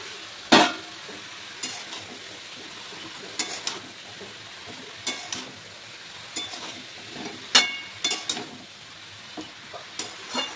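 A spoon scrapes and knocks against a pan at irregular intervals while fish head and fried potatoes sizzle steadily underneath on a gas stove, close by.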